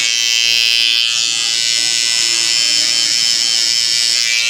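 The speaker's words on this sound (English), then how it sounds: "sorry about this clipper, I don't know why it's loud" Loud, steady electric hair clipper buzzing up close during a low taper haircut, a continuous high motor whine with no talking.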